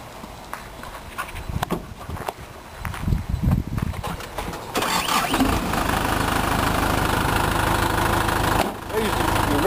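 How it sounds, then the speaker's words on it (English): Mitsubishi Fuso mid-range truck diesel cranking with clattering knocks, then catching and settling into a steady, loud, close rumbling idle, with a person talking early on. "I'm going to crank it up"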